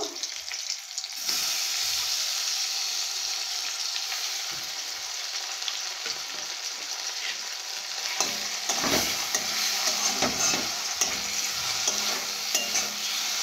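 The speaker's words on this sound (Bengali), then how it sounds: "এইভাবে ভালো করে ভেজে নেব" Chopped potatoes fry and get stirred in a pan, a loud continuous sizzle with scraping spoon strokes and occasional clatter, no talking.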